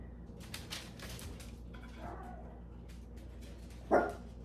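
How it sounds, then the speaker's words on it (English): A single short dog bark near the end, brief and moderately loud, indoors after a stretch of quiet kitchen noise and faint clatter. "No barking in the house."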